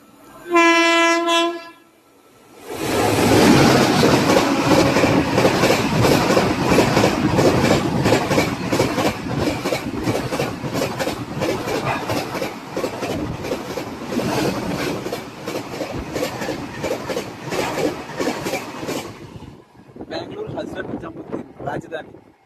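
A MEMU passenger train running late rattles and clatters along at speed, a loud continuous rumble with a horn blast at the start, then a brief quieter stretch near the end; voices are heard over the din.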